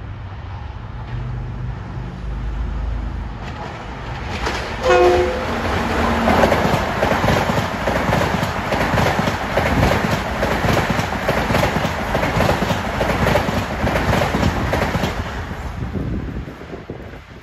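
An LIRR commuter train, number 1716 bound for Huntington, passes Elmont station, its loud rumble building and rolling through with rhythmic clickety-clack over rail joints, and a brief horn near the start.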